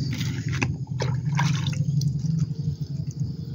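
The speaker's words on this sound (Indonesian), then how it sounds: "kita siram-siram, Pak Chandra, tanaman timun Mira F1 10 HST." Water splashes and trickles onto young Mira F1 cucumber plants, ten days after planting, in a close, uneven patter with bursts of pouring and dripping that go on for a few seconds.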